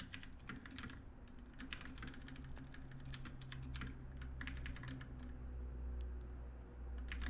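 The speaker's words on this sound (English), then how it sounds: "So that would take this much typing." Quick, close clacking of typing on a computer keyboard during coding work, with irregular bursts of keystrokes and short pauses over a faint, low background hum.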